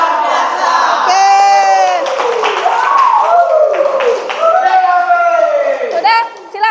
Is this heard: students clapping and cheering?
yes